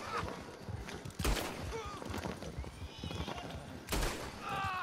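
A horse in the video game Red Dead Online neighs and whinnies amid hoof clops and sharp gunshots, with several whinnies rising over a busy, fairly quiet mix of game sounds.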